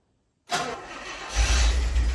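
A Rolls-Royce Corniche engine cranks and catches after a moment of silence, then rises into a louder, rough idle as it settles running.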